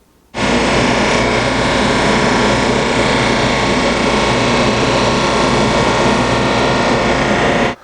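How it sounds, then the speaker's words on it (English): A drum sander runs loudly and steadily for about seven seconds, sanding the faces of wooden box boards for a four-corner grain-matched box, with an abrupt start and stop and no talk. "I need to clean this face up, and I'm going to use my drum sander to do that."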